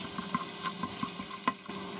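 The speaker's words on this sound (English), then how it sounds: "Add the minced pork when the oil is hot." Minced pork frying in hot cooking oil in a pan, a steady close sizzle with a few stirring scrapes and spatters over about two seconds.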